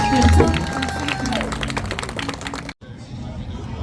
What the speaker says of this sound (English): let's hear one more round of applause for our visiting guests, everyone